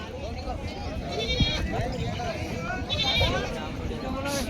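Goats bleat repeatedly over a busy livestock market babble of voices in Kalamnuri, Hingoli, with people talking nearby.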